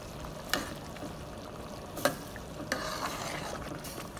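Basil is stirred into a meat sauce simmering over medium heat for spaghetti, a soft bubbling sizzle broken by a few sharp spoon scrapes against the pot, quiet and close with no talking.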